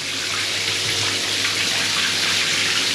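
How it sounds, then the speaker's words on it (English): Shower water pouring steadily into a shower tray whose drain is slow and backing up, a continuous close hiss and splash with no break. "If I turn the shower on, it's causing the water to back up a bit too much within the shower"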